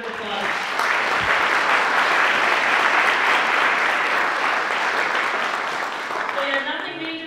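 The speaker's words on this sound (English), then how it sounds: "let's give this great panel a round of applause" An audience at a State of the City event applauds a panel, sustained loud clapping from a crowd that swells, holds for several seconds and then tapers off as a voice begins speaking.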